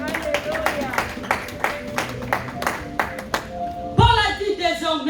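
A church congregation clapping in a steady rhythm, joined by a louder cheer near the end.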